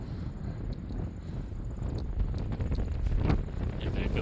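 Wind gusts buffet across an exposed hilltop, a steady low roar with rustling bursts and rising gusts toward the end, heard up close without speech.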